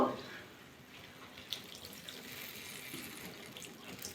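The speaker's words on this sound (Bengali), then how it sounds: "ভালো করে মিশিয়ে নিয়েছি এবার জল দিয়ে দেবো" A quiet, thin trickle of water runs steadily into a bowl of chana dal mixture, faint and close, with a brief knock at the start.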